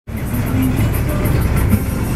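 A bus travels through Cuba, its engine and road noise forming a steady, loud, continuous rumble from a seat inside, with no talk present.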